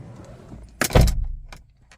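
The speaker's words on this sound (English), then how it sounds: "I close the door," A single solid thud of a Tata Nexon EV door shutting, preceded by a faint rustle and followed by a couple of soft clicks.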